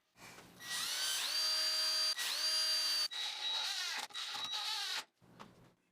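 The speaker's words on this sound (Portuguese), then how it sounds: "Fiz a furação para o eixo." Power drill boring holes in wood while building a step stool, several loud whining bursts with rising motor pitch, each stopping abruptly, the last ones shorter and choppier.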